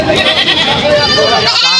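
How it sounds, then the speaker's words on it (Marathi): Loud, close bleats from Kota and Totapuri goats at Ghodegaon market waver and overlap, a wavering nasal call filling the moment with a bit of background chatter. "कोटा आणि तोतापुरी जातीच्या बकऱ्या आहे मित्रांनो"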